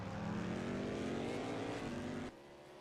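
A race car engine in the rFactor 2 sim at Spa drones loudly in a high steady pitch that rises gradually, then drops abruptly after a shift or lift, with no talk.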